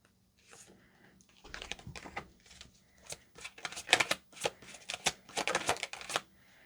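Tarot cards are shuffled by hand in a quiet room, a series of soft riffling and slapping bursts that come in uneven clusters and grow busier toward the end, close by with no talking.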